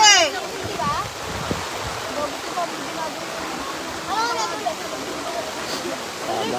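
Typhoon floodwater rushes loudly and continuously nearby with a broad hiss, while voices talk and call out over the flow.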